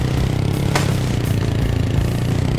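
A dirt bike engine fires up and runs in the motocross racing game Motocross Dirt Bike Racing, a loud, steady buzzing rumble with a brief sharp clatter near the start.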